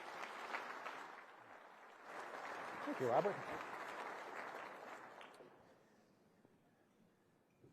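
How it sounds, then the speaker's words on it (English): Audience applause at a Patriot Day Remembrance Breakfast greets the master of ceremonies, a steady wash of clapping that swells briefly and then tapers away, with someone speaking over it near the end. "Please join me in a round of applause and welcome up"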